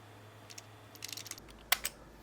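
Arrow keys on a computer keyboard are tapped in a quick scatter of soft, close clicks, with two sharper presses near the end, while setting memory options in the BIOS of a GIGABYTE Z790 AORUS MASTER X board.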